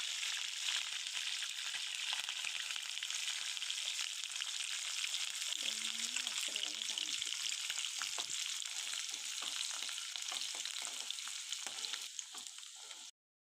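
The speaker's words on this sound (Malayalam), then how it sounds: "അതിലേക്ക് വെളുത്തുള്ളിയും കൂടി ഇട്ട് നമുക്ക് നന്നായിട്ടൊന്ന് മൂപ്പിച്ചെടുക്കാം." Chopped green chilies and garlic frying in oil in a pan for pickle-making, a steady hiss that holds throughout, with brief stirring scrapes in the middle, close and even until it stops abruptly.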